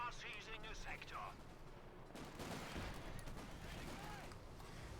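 Machine gun fire from an MG-42 in a Company of Heroes 2 battle, striking an armored car: a faint, dense crackle of battlefield gunfire under commentary, with bursts that swell and fade.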